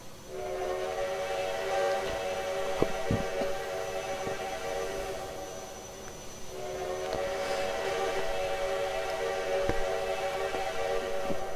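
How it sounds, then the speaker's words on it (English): A loud, steady multi-tone steam whistle chord from a Texas State Railroad 2-8-2 locomotive in the game Trainz 2019 blows in two long blasts with a short gap between, resonant and sustained over a faint background rumble. "Definitely one of my favorite whistles"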